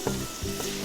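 Sofrito of onions, celery and carrots sizzling in a pan, a brief close fizz with two soft stirring bumps, no voices.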